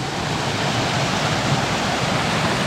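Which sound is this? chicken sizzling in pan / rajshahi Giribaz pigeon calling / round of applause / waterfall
waterfall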